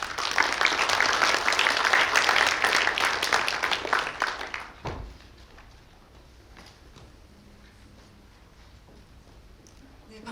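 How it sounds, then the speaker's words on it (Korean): An audience at a media and information literacy conference applauds to welcome a professor to the stage, a dense burst of clapping that cuts off around the midpoint, leaving quiet room noise. "큰 박수로 맞아주십시오"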